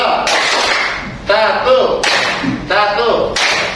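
A school class plays a clapping pattern game, with a few sharp group claps spaced apart between loud children's voices chanting in unison, all close and energetic.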